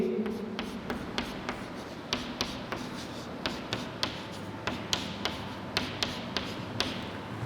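Marker or pen writing digits out as a sum for a 6th-grade divisibility-by-9 lesson, a steady run of light taps and scratches over a constant background hiss, close by, with no speech.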